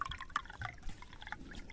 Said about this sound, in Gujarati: એક નારિયેલ માંથી આખો કરશીઓ ભરાણો પાણી નો